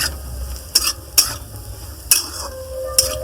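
Potatoes spiced with cumin and chilli powder fry in a pan, a steady sizzle broken by four sharp scrapes and clinks of a spatula stirring against the metal.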